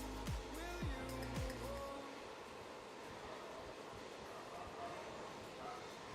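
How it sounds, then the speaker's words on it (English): A dog barks in a few quick, rising yelps near the start, then goes quiet while a low, steady rumbling drone carries on for several seconds. "Dog knows I'm down here for a while, so he's gonna go crazy."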